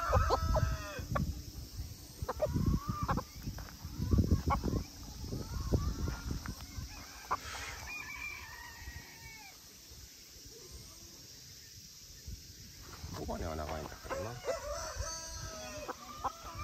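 Minohiki chickens, including a Kizasa-type rooster of a long-tailed crossbreed, cluck and call repeatedly at close range, with a rooster's crow rising partway through among the steady clucking of the flock.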